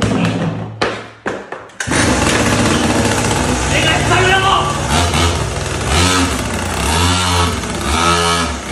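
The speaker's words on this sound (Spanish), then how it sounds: "¿Os gusta mi nueva moto o qué?" A new motorcycle's engine roars loud and close, starting abruptly after a few thumps and holding a steady, gritty revving drone with rising and falling pitch sweeps toward the end.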